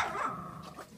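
A Siberian husky gives a short, whiny vocalization, a rising then falling yowl lasting about a second, close by and moderately quiet.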